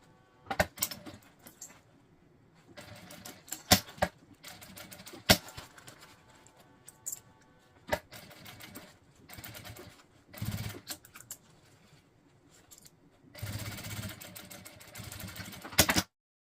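A sewing machine stitches the seam of a fabric makeup bag in short bursts, separated by quiet pauses and sharp clicks and knocks of handling, heard close and fairly faint with no talking.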